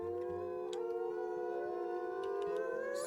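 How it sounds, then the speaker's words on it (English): Wolf howls in the video game WolfQuest: long, sliding tonal howls, several overlapping, rising and falling, with faint clicks underneath and no talk. "Somebody's howling over there."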